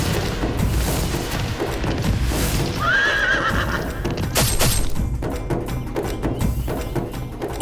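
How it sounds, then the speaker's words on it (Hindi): A horse whinnies loudly once, and its galloping hooves drum under a dense, booming dramatic score. "इतना सुंदर अश्व, इसकी त्वरित गति तो दर्शनीय है।"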